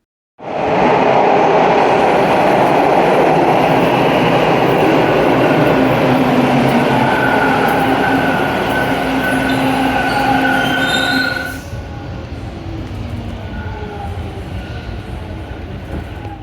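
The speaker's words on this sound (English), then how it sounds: "I was just going to go get on the Line 2 train" A Toronto TTC Line 2 subway train rumbles loudly with steady wheel noise and a faint squeal, then the roar drops to a quieter hum near the end.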